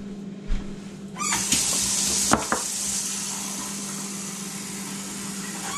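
About half a cup of water poured into a pot of lasagna soup with sauce and noodles, a sudden close hiss and rush of liquid that starts after a couple of clunks and then settles into a steady sizzling wash.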